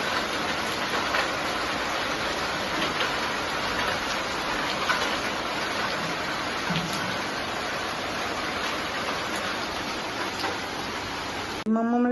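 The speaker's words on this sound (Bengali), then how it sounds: "ভালো জোরে বৃষ্টি হচ্ছে।" Heavy rain pours steadily in a dense, even roar close by, with no pauses, during a hot-weather downpour at home; the wash holds to the end, where it cuts off abruptly.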